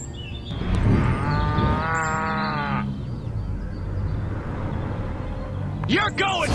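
In the Destroy All Humans video game, zombie cows moo and bleat over a constant game soundscape, with a drawn-out lowing call in the first seconds and a sharp sound near the end.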